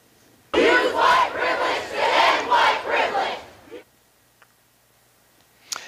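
Hundreds of protesters at Munn Park in downtown Lakeland shout together in loud, surging chant-like bursts for about three seconds, then the noise cuts off into near silence with a couple of faint clicks.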